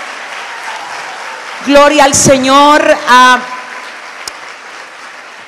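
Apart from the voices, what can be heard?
congregation applause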